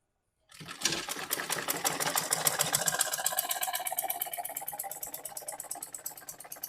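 A sewing machine starts up and runs a long straight seam on a gown, a close, rapid rhythmic clatter that holds steady to the end without speech.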